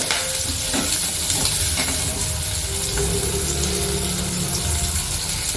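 Onion, green chillies and curry leaves frying in plenty of oil, a loud, dense, continuous sizzle close by with faint stirring movements running through it, no one speaking.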